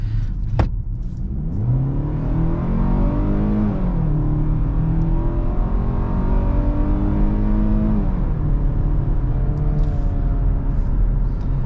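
2023 Hyundai Tucson accelerating, heard from inside the cabin: a steady engine drone with rising pitch sweeps as the car gains speed and shifts gears, continuous and moderately loud with no talk.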